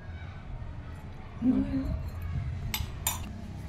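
A spoon stirs chili powder, mustard powder and oil together for a yellow cucumber pickle, giving a few soft scrapes and two brief, bright clinks against the bowl near the end, with a faint voice in the background.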